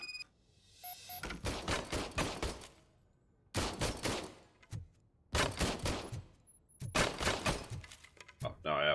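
An old service gun fired in a RoboCop video game, four separate bursts of loud rapid gunfire, each lasting about a second, separated by near-silent gaps and ringing echoes, with a soft mechanical click heard early on.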